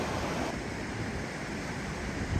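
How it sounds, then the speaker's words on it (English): Whitewater rapids on the Deschutes River in Central Oregon, heard from the trail as a steady, broad rushing roar with light wind noise over it. "This is the mighty Deschutes River here in incredible Central Oregon."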